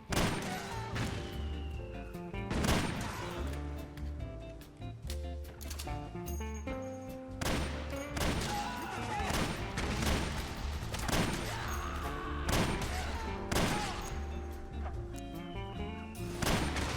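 Rapid gunfire in Metal Gear Solid 4, repeated loud bursts of fast automatic shots in a busy battle mix, with clucking chickens in the mix.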